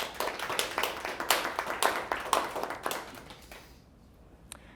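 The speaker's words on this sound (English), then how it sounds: "An applause for Pedro, please" An audience at a community event on highway expansion claps for an honoree, a brisk run of hand claps that fades out after about four seconds, leaving near silence.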